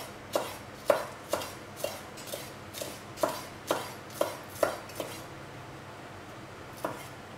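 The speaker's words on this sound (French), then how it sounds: "on va le ciseler" A kitchen knife finely minces a few sprigs of fresh herbs on a cutting board, giving about ten crisp, close chops in an uneven rhythm, then a pause and one last cut.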